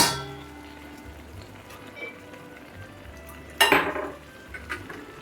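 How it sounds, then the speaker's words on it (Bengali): Fried prawns stirred into elephant-foot-yam stalk curry in a pan, a spoon clattering and scraping against the metal with one louder clank partway through over a quiet background. "আর এই সময় আমি ভেজে রাখা চিংড়ি মাছগুলো দিয়ে দিচ্ছি"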